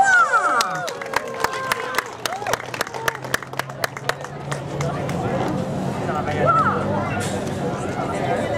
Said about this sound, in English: a warm round of applause to Shaolin Kung Fu!